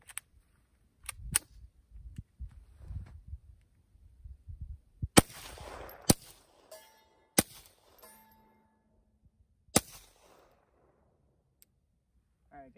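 Rifle fitted with a K configuration suppressor, shooting outdoors in hilly country; about five sharp, isolated shots are spaced a second or more apart, each followed by a faint ringing echo, with quieter handling noises and brief voice before them.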